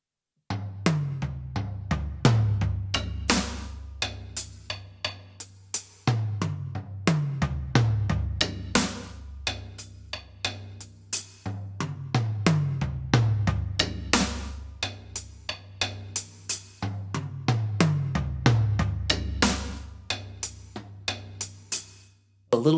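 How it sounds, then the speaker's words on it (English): Slow paradiddle-diddle hand pattern played on a drum kit without kick drum, crisp sticking strokes in a steady repeating rhythm with accented hits recurring in even cycles, close and clear. "So just the hand pattern without the kick drum really slowly would sound like this."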